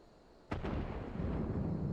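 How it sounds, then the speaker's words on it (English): Cannon fire in the Final Fantasy XIV game lands as a sudden booming blast with a quick second crack, followed by a sustained low rumble and debris roar that persists at moderate volume. "Cannon fire! Where did it come from?"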